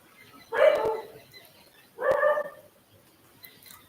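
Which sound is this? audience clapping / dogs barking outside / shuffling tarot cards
dogs barking outside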